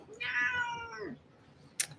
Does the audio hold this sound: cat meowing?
yes